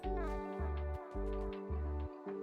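A cat in MTG Arena gives a repeated, even meow-like call, four or five steady tonal bursts in a regular rhythm, fairly loud and clear with no talk over it.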